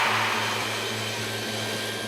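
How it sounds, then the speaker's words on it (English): A table saw runs steadily as it is used like a planer on bowed lumber, a loud, close, continuous motor roar with a low hum, without any talk. "we're going to use this table saw as a planer slash joiner"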